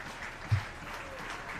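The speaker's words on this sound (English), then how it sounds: "The Edmonton crowd trying to clap out the 3-hole hitter for the 57's." A baseball crowd in Edmonton claps in a steady, distant patter of applause across the ballpark, with one brief louder thump early on.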